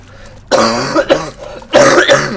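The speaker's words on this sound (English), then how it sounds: "I have a cough" A person recovering from illness gives a few sharp coughs in close succession, loud and near the microphone, with a brief pause before a final harsher pair.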